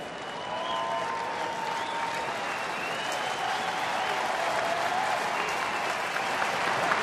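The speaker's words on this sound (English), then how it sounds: "here comes the crowd" A baseball stadium crowd at a Pittsburgh at Detroit game cheers and applauds in a sustained, dense roar that builds slightly, with a faint announcer's voice beneath it.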